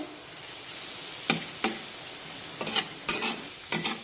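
A spiced mixture for leftover-chapati phodnichi poli fries quietly in a pan while a spoon stirs it, giving five or six sharp scraping strokes spaced irregularly over a faint background sizzle, near and without voices.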